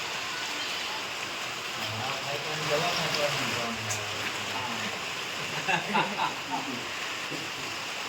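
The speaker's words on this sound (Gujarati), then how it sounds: "બાઈને વરસાદ વધે છે" Rain falls in a broad continuous hiss, growing heavier, fairly close, while voices talk faintly beneath it.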